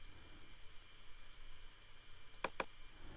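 Two quick, sharp computer mouse clicks in music editing software, faint and close against a quiet hissing background.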